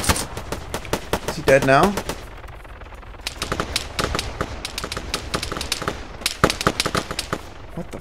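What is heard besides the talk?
gunfire from the video game ARMA 3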